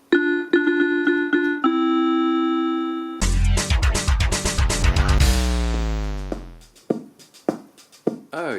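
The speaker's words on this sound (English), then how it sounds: "It's the Rhythmic 10 portable keyboard." An old 1980s Rhythmic 10 portable keyboard plays a few clipped electronic tones, then a dense, loud burst of layered synth sounds and descending notes, trailing into scattered percussive hits.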